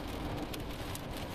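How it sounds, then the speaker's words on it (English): A short burst of steady rain pours down around parked cars at a car lot, a dense and continuous hiss with no voices. "the rain came quicker than I could plan for"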